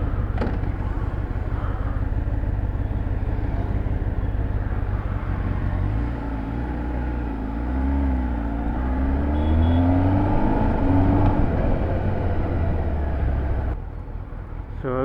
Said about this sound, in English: well, that's the stock exhaust